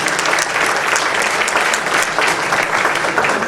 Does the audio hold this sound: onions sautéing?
no